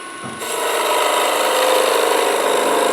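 A skew chisel cutting wood on a spinning lathe at a woodturners' meeting, giving a loud, steady, close hiss that sets in sharply and holds without a break.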